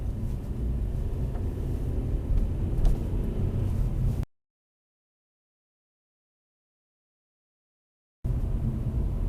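Car driving on a road during a driving test route near Pitsford, Northampton, giving a steady low engine and road rumble that drops out midway and then resumes.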